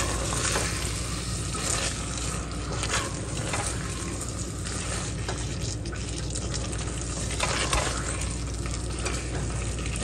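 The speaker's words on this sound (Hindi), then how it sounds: "आलू जो है हमारे हाफ डन है, तो बस थोड़ा सा ही पकाना पड़ेगा" Half-cooked spicy potatoes fry in a pan while being stirred, giving a loud, continuous sizzle with scraping stirs throughout and no talking.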